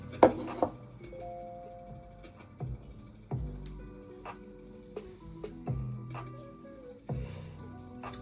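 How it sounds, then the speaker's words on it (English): A bell rings as a string of soft, ringing chime strikes, each fading slowly, spaced irregularly over several seconds at low volume. "Confirmation by the bell."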